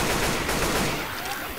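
Rapid automatic gunfire in the video game Left 4 Dead 2 rattles on continuously at close range, loud and dense, gradually easing slightly toward the end, with no talk over it.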